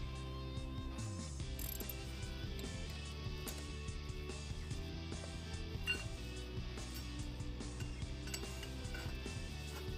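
Ratchet on a cheater pipe working loose an inner tie rod, a steady dense run of metallic clicking and clattering that carries through the whole stretch at a close, even level with no talk.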